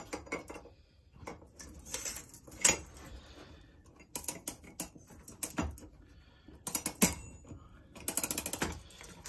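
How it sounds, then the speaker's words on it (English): Small metallic clicks and ratcheting from a watch mainspring winder as a mainspring is wound in, arriving in irregular close bursts with brief pauses between. "Obviously you've got a little ratchet on this, so we're going to start winding it in."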